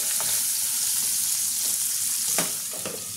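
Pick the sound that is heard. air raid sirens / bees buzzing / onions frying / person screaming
onions frying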